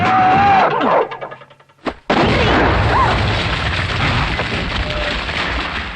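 A sudden loud boom from a bomb hidden in a box erupts after a brief lull, followed by a sustained roaring rumble that fills the space.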